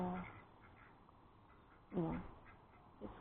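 Ducklings give a few faint quacking calls at irregular moments: one at the start, a clearer pair near the middle and a softer one toward the end, with a quiet outdoor background between them.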